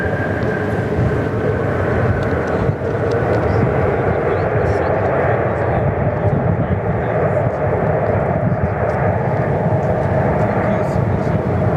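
Thai Airways airliner at Perth Airport, a loud continuous engine roar with a low rumble and faint whine, steady from start to finish with speech underneath.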